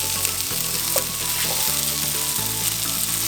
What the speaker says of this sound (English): now we're gonna let that cook until the mushrooms become slightly golden brown